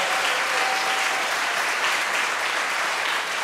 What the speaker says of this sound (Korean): 오늘 저 연주를 해주신 악사분들께 박수 한번 해주겠습니다